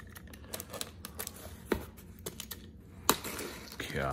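A knife slices open a shipping package holding a 2021 Reverse Proof American Silver Eagle designer edition, giving scattered close clicks and scrapes, a sharper cut near the end and a brief sliding rasp, with no speech.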